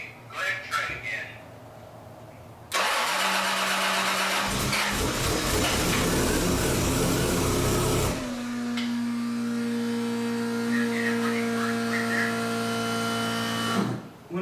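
A Toyota 2JZ engine catches at around three seconds and runs loud and rough for several seconds, then settles into a steadier idle with a droning tone before cutting off; voices are heard briefly at the start.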